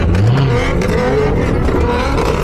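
V8 car engines rev loudly and continuously at a car meet, close by, with a rising surge near the start over a steady engine rumble and clatter.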